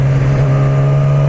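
A 2016 Yamaha R6 sport motorcycle engine held at low revs gives a steady, loud, close hum with no talking over it.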